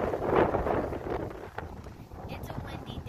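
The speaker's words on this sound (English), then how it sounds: "It's a windy day." Wind gusts outdoors on a windy day and rumbles against the microphone, strongest at the start and then easing into a softer ongoing buffeting.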